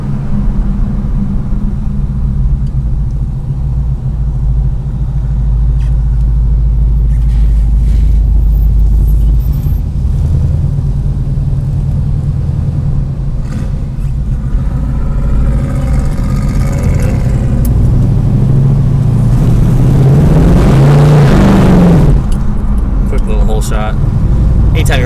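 A classic car's engine runs steadily while driving, a loud low rumble under continuous close talk, with a brief rev and tire noise near the end.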